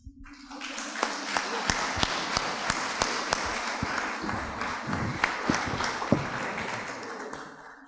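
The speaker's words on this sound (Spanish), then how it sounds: "invito a que aplaudamos a la Casa de la Literatura" An audience at a book presentation applauds steadily, with dense clapping sustained for several seconds and a few louder individual claps standing out.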